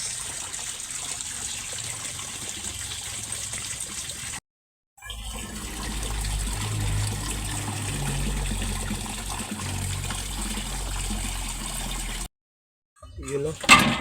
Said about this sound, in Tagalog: Flowing, dire-diretso yung tulo.